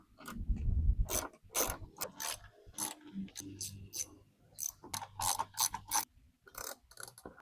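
A ratchet removes bolts from a Toyota Tundra fender flare, with repeated bursts of quick clicking in short runs, close and fairly quiet.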